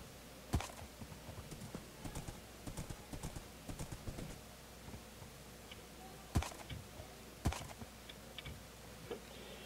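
Hoofbeats of a horse in Minecraft hardcore survival, ridden among trees, sounding as crisp, irregular clip-clop bursts with a few louder isolated hits, alone with no talk.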